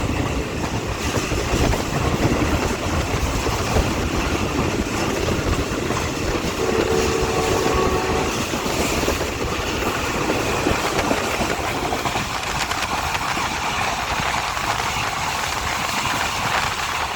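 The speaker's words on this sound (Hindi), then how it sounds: "तो हमारी ट्रेन इस वक्त Habibabad railway station through pass करेगी।" Onboard the Awam Express behind a Tiger ZCUP 30 locomotive, the train rolls through a station with a loud, continuous rumble of wheels on rails, steady rattling and a low engine drone throughout.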